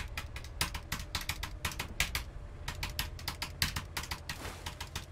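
Computer keyboard keys clack in rapid, irregular bursts of close typing over a low background hum, with no talking.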